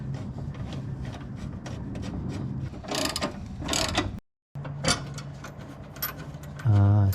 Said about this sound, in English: we need to torque it down